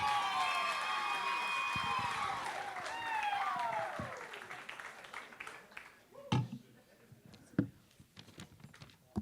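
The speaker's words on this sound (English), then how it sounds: "Could I have a special round of applause for Liana?" Wedding guests at an evening reception applaud the bride as she comes to the microphone, steady clapping mixed with cheers and whistles that fades out into a few scattered claps and thumps.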